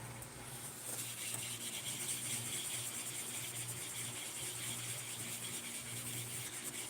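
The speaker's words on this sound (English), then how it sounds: "We are wet polishing it right now." Knife blade being wet polished to a high-gloss finish, a steady continuous rubbing hiss with a soft mechanical hum underneath, moderately quiet and unbroken, no talking.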